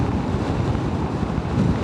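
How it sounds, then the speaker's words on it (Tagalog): Strong wind buffets the microphone during a motorcycle ride near Laguna de Bay, a loud, rumbling, continuous roar with no voices. "Ang lakas ng hangin."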